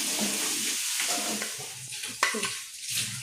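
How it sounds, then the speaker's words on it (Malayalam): Half-cooked chicken pieces stirred and frying in a pan of oil, with a steady sizzle under scraping and stirring strokes and a sharp clink of utensil against the pan near the middle. "ഇതിലേക്ക് നമ്മൾ ആപ്പ് വേവായ ചിക്കൻ ഇട്ടിടുക."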